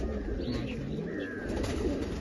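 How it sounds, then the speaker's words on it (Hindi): A well-flying female pigeon from an old Machhlishahr loft coos in a low, continuous, rolling murmur, close by and steady, with no talking over it. "बहुत अच्छी फ्लाइट की कबूतरी है।"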